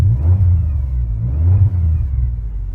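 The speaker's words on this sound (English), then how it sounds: "Oh, you can hear that supercharger whine." A supercharged Pontiac engine rumbles steadily up close, with a thin high supercharger whine riding above it that rises and falls slightly as the revs shift.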